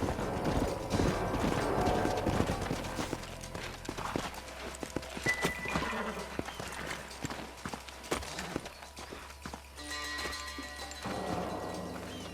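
Horses' hooves clip-clop in the Western game Red Dead Redemption, a steady rhythmic trot near and fairly clear, mixed with mechanical clatter and game ambience, with a brief whinny possible.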